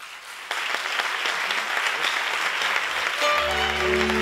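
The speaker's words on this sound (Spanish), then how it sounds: "Aplausos." Audience applause at a film festival's closing awards gala, erupting loudly as a short film is announced winner and holding steady as sustained clapping from a large crowd.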